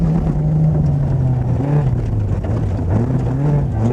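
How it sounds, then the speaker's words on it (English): Opel Manta rally car sliding tail-out across gravel at a rallysprint, its engine droning steadily and loud throughout with shifting pitch as it drifts. "All seems well under control inside the Opel as Sinan drifts it across the gravel in the familiar tail-out style."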